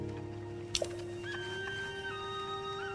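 A horse at a stable in Zelda: Tears of the Kingdom gives a short, sharp whinny early on, then fades under a steady bed of game music and tones.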